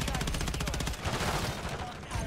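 A light machine gun in Modern Warfare 3 fires a fast, steady automatic burst, loud and close, before the shots blur into heavier rumbling noise.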